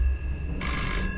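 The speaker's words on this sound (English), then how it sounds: "Oh, there's a phone." A telephone in the horror game Life After Us: Shipwrecked rings with a bright, close electronic trill that starts abruptly after a low ambient drone and keeps sounding.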